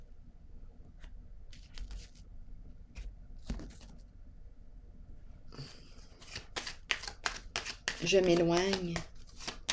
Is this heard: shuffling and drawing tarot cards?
yes